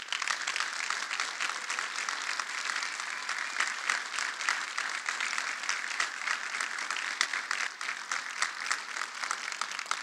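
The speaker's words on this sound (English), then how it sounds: "So a big round of applause for them." Steady applause from an audience at a corrections academy graduation ceremony, even and continuous throughout, moderately distant and without any voices over it.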